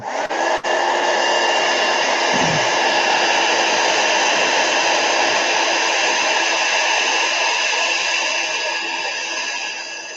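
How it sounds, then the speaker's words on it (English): A heat gun blows a steady, loud rush of hot air across paint on a stencilled card, holding an even roar for about ten seconds with one brief click near the start and no talk. "I'm going to hit that with a heat gun real quick because that stuff just takes a minute or two to dry."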